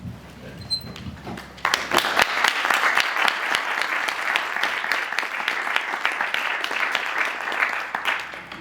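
After a muffled voice and faint noise at the start, an alumni lecture audience breaks into sustained applause for the speaker, loud and dense with crisp nearby claps, continuing to the end.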